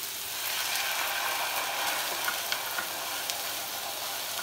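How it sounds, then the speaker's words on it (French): Pinot wine hits a hot pan holding a grilled spiced ham steak and sizzles hard in a steady close hiss, with a few clicks and scrapes of a utensil stirring, and no talking. "On va déglacer au pinot."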